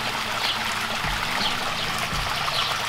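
Water from the waterfall of a 22-year-old backyard koi pond splashes and trickles steadily. It is a soft, continuous wash at a low, even level, with a couple of faint low thumps.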